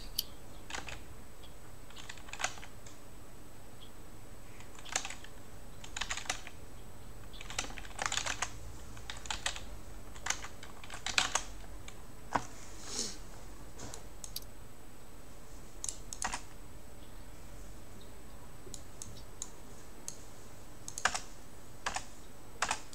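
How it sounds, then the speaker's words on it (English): Fast bursts of computer keyboard typing, close and fairly quiet, with irregular clusters of key clicks and short pauses over a faint steady background noise from outside. "now the only thing I hear is the noise outside and you typing"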